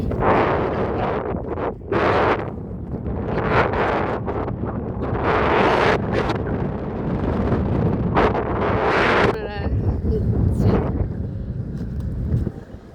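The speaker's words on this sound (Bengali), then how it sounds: "হাওয়া কেমন বইছে দেখেছি" Powerful gusts slam into the microphone in loud, rumbling bursts, one after another, with brief lulls between them.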